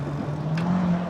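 A Chevrolet Corvette driving past on a waterfront residential street in Queens, New York, a brief steady engine hum with a low tonal drone, moderately close.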